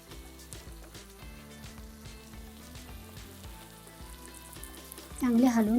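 Spice paste being stirred into onion greens bhaji frying in a pan, a continuous sizzle with stirring that swells into louder crackling near the end.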